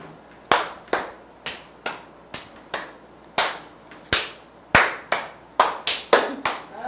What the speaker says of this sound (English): Don't clap unless it comes from the neighbor